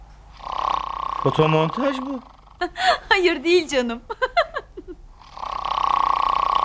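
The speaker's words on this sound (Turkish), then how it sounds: "Ben horlayan bir insan olamam." A person snores loudly nearby, one long rasping rattle at the start and another at the end, with a man's and a woman's speech and a brief chuckle between them.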